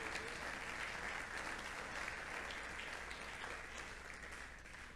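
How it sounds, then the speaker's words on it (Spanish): Sustained congregational applause fills a church service, a dense, steady wash of clapping that runs throughout and fades slightly toward the end. "Dale un aplauso al Señor."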